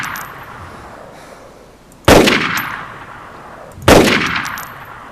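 Two sharp, loud gunshots in the video game DayZ Standalone, roughly two seconds apart, each with a ringing decay, over a steady low background hum.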